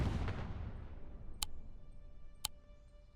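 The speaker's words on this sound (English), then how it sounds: "Just take a shot at the Panzer II." An anti-tank gun firing at a Panzer II in the Second Front video game: a heavy boom at the start decaying over a second, then two quiet sharp ticks and a faint burst at the end.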